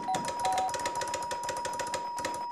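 An electronic doorbell rings at an apartment door in an Egyptian comedy scene, a fast, continuous trilling buzz held steadily for a few seconds at moderate volume.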